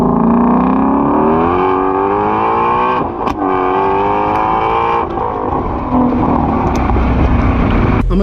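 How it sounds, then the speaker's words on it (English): A 2020 Ford Shelby GT350 with its 5.2-liter Voodoo V8 revs hard through its exhaust, a loud, close engine note climbing steadily in pitch and holding high before dropping back, with no talk over it. "I'm gonna give you guys a couple revs with the exhaust both in the quiet mode and the sport mode"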